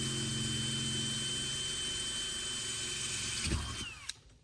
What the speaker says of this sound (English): The next step is going to be drilling our hole so that we can put our eye bolt